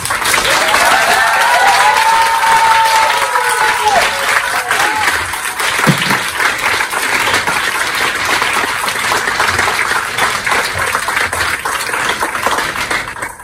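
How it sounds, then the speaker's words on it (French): Loud, sustained applause from a large audience at a political rally at Rosa Bonheur, dense clapping filling the space with a few cheers rising briefly over it. "je voudrais vraiment que vous fassiez un tonnerre d'applaudissements à l'équipe"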